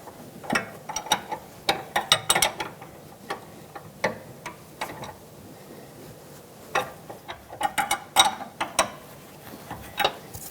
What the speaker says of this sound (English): I'm going to start the tool over here where it can swing that way as I tighten.